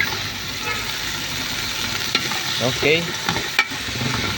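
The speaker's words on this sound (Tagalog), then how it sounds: "gigisahin muna natin na idol sa sibuyas at sa luya" Onion and ginger sauté in a pan with a salmon head, a steady low sizzle of frying with stirring and occasional scraping knocks, close and moderate in level, with one brief spoken word.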